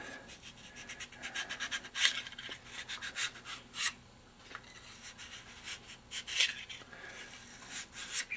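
A brush scrubs the feed ramp of a KelTec pistol in quick, steady back-and-forth strokes. The scratchy rubbing is close and fairly quiet and runs throughout, with a few brief pauses and no one talking.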